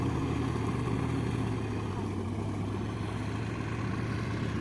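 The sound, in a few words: hired tractor ploughing a farm field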